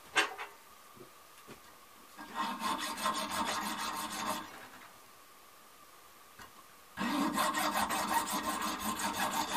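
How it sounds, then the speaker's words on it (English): Hacksaw cutting away casting sprue marks on a metal buttplate: two bursts of steady back-and-forth rasping strokes, close and fairly loud, separated by a quieter pause, with no talking. "To do that, I will use a hacksaw."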